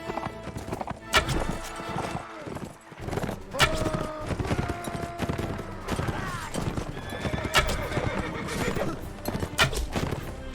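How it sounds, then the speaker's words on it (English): Horses in a medieval siege video game whinny loudly while hooves clop in a fast, continuous rhythm through a dense battle mix, with a voice speaking over it. "Try to capture that horse, or take out the rider anyway."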